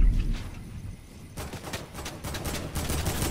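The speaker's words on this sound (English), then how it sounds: "This is where I headshot snipe one." Gunfire in the video game Fortnite, including sniper shots, cracks out in rapid loud bursts amid dense game noise.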